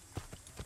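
Horse hooves clip-clopping in the Assassin's Creed video game, three soft, evenly spaced thuds at a walking pace, quiet and close with no talk over them.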